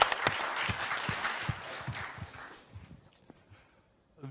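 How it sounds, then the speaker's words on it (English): A crowd claps in warm applause at an intrafaith panel dialogue on Islam at Rice University, loud and dense at first, then thinning and fading away over a few seconds. "Let's give a round of applause for Asia Society."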